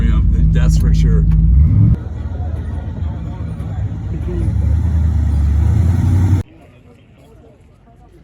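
A collectible car from an RM Sotheby's Scottsdale auction accelerating on a residential street, with a deep engine note that climbs loudly, drops after a shift, rises again and then cuts off abruptly, with people talking inside the car.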